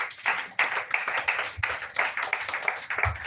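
A church congregation claps during a Christian sermon on the Holy Spirit, with a dense steady patter of many hands that swells in rhythmic bursts over about three seconds, fairly close and without talk.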